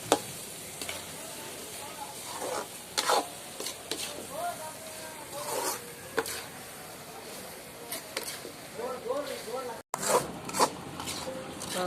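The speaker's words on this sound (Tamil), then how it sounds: "வெல்லம் போட்டுட்டு நல்லா அப்படியே பரட்டி விட்டுறலாம்" Eggplant sambal with jaggery being stirred in a pan, with repeated rasping scrapes of a spoon against the pan and a low sizzle, close by, while a person talks throughout.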